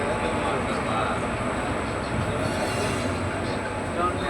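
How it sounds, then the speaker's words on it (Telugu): The Rameswaram–Secunderabad special express leaves Guntur as a steady, close rolling rumble of train wheels and carriage noise, heard from inside the coach. It runs continuously with a faint murmur of voices in the background. "ట్రైన్ డిపార్ట్ అయిపోయింది గుంటూరు నుంచి"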